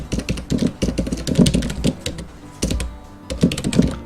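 Rapid keystrokes on a computer keyboard as commands are typed into CAD drawing software, close and clear, with bursts of quick taps separated by brief pauses and no talking.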